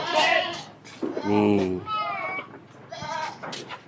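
Boer goats bleating close by in a feeding pen, several harmonic, wavering calls in quick succession with short gaps between them.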